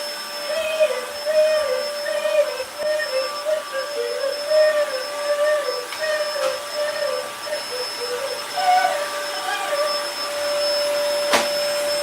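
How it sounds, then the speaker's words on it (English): A household vacuum cleaner runs steadily with a whining, wavering motor hum that rises and dips, close and continuous for the whole stretch. "every time I put this vacuum on"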